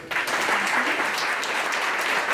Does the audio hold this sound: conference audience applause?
yes